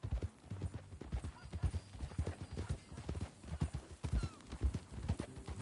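Horse hooves clip-clopping in Red Dead Redemption 2, an uneven walking rhythm that holds steady at moderate distance, with faint sounds of the animal and soft background ambience.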